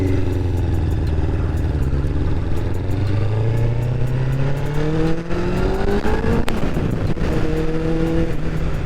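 A 1999 Honda CBR 600F carbureted sport motorcycle revs up nearby, its engine note climbing steadily in pitch over several seconds, then blipping and settling, loud and alone without talk.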